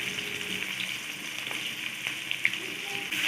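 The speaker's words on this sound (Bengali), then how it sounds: "এবার পেঁয়াজ কুচিগুলো দিয়ে দিচ্ছি।" Chopped onions fry in mustard oil with whole spices such as cardamom, cloves and cinnamon, giving a steady hissing sizzle with scattered small pops and a faint watery gurgle, close and moderately loud, no speech.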